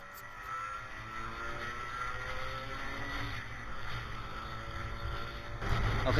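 Kawasaki Ninja RR two-stroke motorcycle ridden on the road, its engine a steady mid-pitched drone that swells slightly under light throttle, heard from the rider's position beneath rushing wind.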